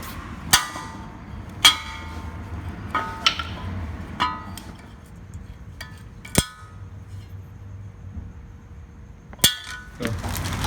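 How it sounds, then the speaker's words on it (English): A hammer strikes metal in uneven, sharp clangs while knocking a stuck wheel bearing out of a 2004 Nissan Altima, about a dozen blows with pauses between them in a quiet garage. "if your old bearing is stuck, we're going to use a hammer and kind of hammer it so it can come out and get loose"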